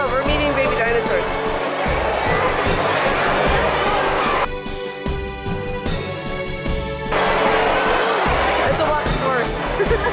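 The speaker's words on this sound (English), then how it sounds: "We have a giant crowd of people." A large crowd at a Jurassic Quest dinosaur exhibition, with a constant loud indoor babble of many voices, thumps and clatter, and a sustained tonal hum through the middle.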